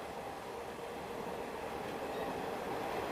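Early-morning commuter train rolling past with a continuous rumble and rattle of railcars, steady and fairly close throughout, no voices.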